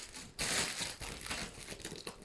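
Crinkly plastic packaging around a custom diamond painting kit crackles and rustles up close in a loud burst, then keeps crumpling in uneven bursts as the wrapping is handled.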